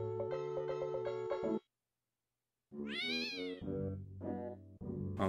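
A cartoon cat meows in Pac-Man 2: The New Adventures, a loud, bright, wavering yowl that rises and falls, following a bouncy game jingle and a brief silence.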